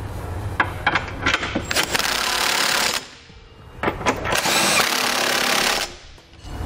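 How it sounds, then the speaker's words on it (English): A power tool with a 19 millimeter socket snugs up trailer hitch hardware on a 2013 Lexus RX 350, in two loud bursts of rapid whirring and rattling, each lasting a couple of seconds with a short pause between. "I'm gonna come back with a 19 millimeter socket, and I'm gonna snug up all of my hitch hardware."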